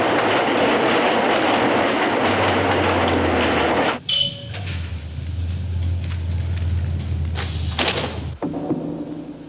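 A New York subway train rolls on its rails with a loud, dense rumble that drops off suddenly, leaving quieter squeals, clanks and a lingering hum before a final thud.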